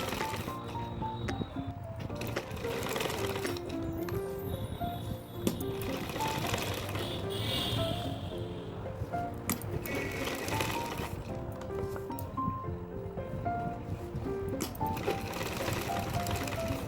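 A sewing machine runs steadily, stitching fabric with a continuous mechanical whir and rapid needle chatter, sustained and fairly close with no pauses throughout.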